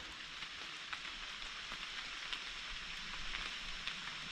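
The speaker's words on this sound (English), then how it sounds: "it's starting to rain again" Steady rain falls on a wooded hiking trail, a dense, even hiss with scattered nearer drops tapping through it, continuous and fairly soft, with no voices.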